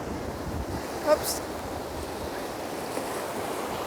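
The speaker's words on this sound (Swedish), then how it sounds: "Det är så blåsigt ju." Strong wind buffets the microphone by the sea, a steady broadband roar with surf underneath and a brief voice cutting in once.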